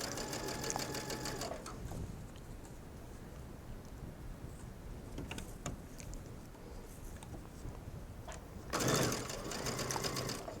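A sewing machine stitches mesh fabric along a folded edge, a steady close whirring run that pauses briefly and then picks up again, with no voices.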